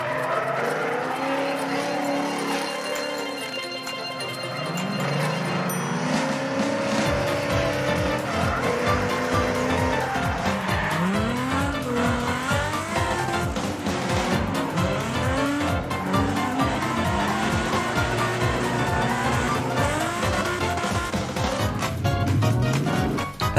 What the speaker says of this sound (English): These are drifts being performed in real life by professional drivers.